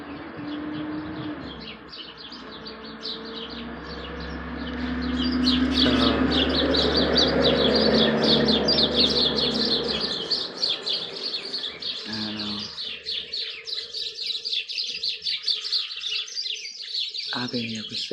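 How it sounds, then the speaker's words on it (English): A flock of birds chirps in dense, overlapping tweets throughout, with a louder, rougher stretch of noise partway through before the chatter continues on its own. "Birds ain't never came down there and chirped in a flock."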